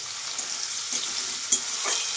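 Spices fry with chopped tomato and a green chili in oil reused from frying fish and bottle gourd, giving a continuous close sizzle punctuated by a few stirring scrapes.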